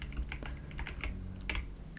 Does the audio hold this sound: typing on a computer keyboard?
yes